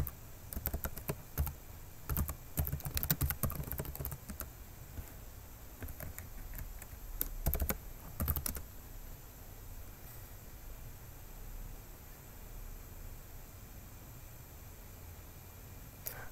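Computer keyboard typing of terminal commands for a Tizen SDK install, quiet and close, with bursts of rapid keystrokes in the first half, then near-silent background hiss.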